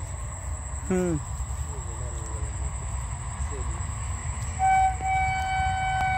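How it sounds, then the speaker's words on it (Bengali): A train passes near a railway gate in the open, with a steady low rumble underneath and a horn sounding twice; crickets or insects add a constant high whine, and a person briefly talks. "ওই যে ট্রেন যাইতেছে"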